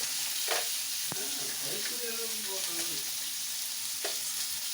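A handful of cashews frying in a pan for lemon rice, a steady close sizzle with a few brief stirring scrapes and clinks over it, no talking.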